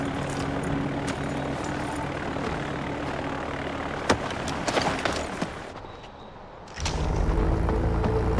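Fixed-wing airplane taking off in the video game Far Cry 4: a steady, loud engine roar dips briefly, then swells into a heavier, deeper rumble near the end, with no talking.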